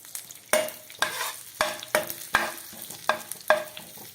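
Cumin, fennel seeds, bay leaf and asafoetida fry in melted butter in a pan, a steady close sizzle broken by about seven rhythmic stirring scrapes spaced roughly half a second apart.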